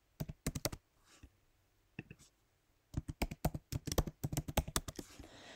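Computer keyboard keys click up close as a name is typed, a quick burst of taps, a pause, a couple of strokes, then a longer run of rhythmic typing.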